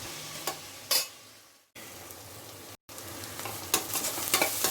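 Onions and green chillies sauté in a pan for tomato rice, a soft continuous sizzle broken by a few stirring scrapes and brief cut-outs, close and fairly quiet with no talking.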